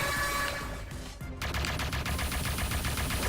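An enemy in the top-down shooter Jydge fires rapid, dense bursts of gunfire, a continuous rattling stream that briefly drops out and then resumes loudly over busy game noise.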